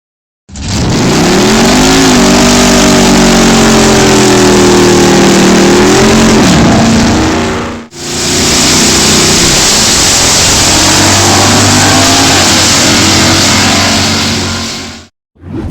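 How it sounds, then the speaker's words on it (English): A 1972 Ford Gran Torino Sport's 351 Cobra Jet V8, rated at 248 horsepower, revs loud and close, climbing and falling in pitch, then cuts off briefly before a second sustained, raspy rev. "The 1972 Gran Torino Sport's 248 horsepower 51 Cobra Jet V8."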